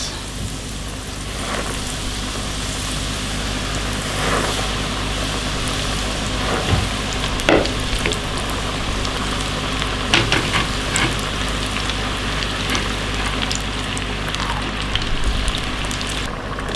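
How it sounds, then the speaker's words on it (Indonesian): Food deep frying in hot oil, cooked in batches until golden brown, gives a steady dense sizzle with scattered pops and crackles throughout, close and continuous with no talking. "Kita goreng lagi sampai semuanya habis."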